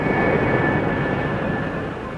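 A jet aircraft roars steadily near an aircraft carrier, a loud sustained engine rumble with a high whine that fades slightly toward the end.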